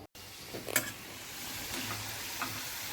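Jaggery pitha frying in oil in a home kitchen: a faint, steady sizzle with a few soft stirring clicks and taps, fairly quiet throughout.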